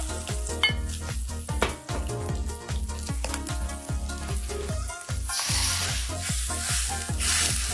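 Hilsa fish pieces frying in a little oil in a pan, a busy continuous sizzle with crackling pops that grows brighter and hissier toward the end.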